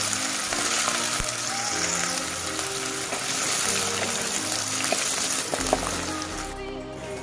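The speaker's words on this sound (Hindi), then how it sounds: "इसमें मैंने तेज पत्ता दे दी एंड हरी मिर्च, साथ में अभी दूँगी ये आलू, इसे मैं अच्छे से फ्राई कर लूँगी" Potatoes frying in hot oil with bay leaf and green chilli, a continuous crackling sizzle with scattered pops and occasional utensil clinks, close and steady, briefly quieter near the end.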